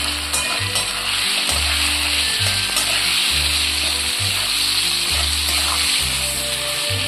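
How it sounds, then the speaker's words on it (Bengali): Masala fries in oil for a bhetki palang dish, a dense, loud, continuous sizzle and crackle close up over a pulsing low hum, with no one talking. "আমার মশলাটা খুব ভালো করে কষে তেল ছেড়ে দিয়েছে।"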